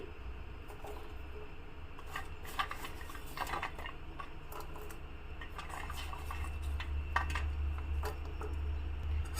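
Fried sugar kommulu stirred through sugar syrup in a pan, giving soft intermittent scraping and clinking of the spoon against the pan over a low steady hum, with no talking.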